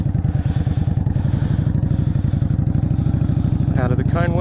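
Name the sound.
motorcycle engine during riding practice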